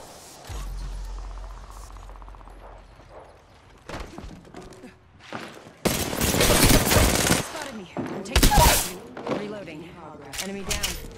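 Video game gunfire with dense loud bursts and rapid automatic volleys, some broadband cracks and thuds amid scattered quieter sounds, with talking heard at times.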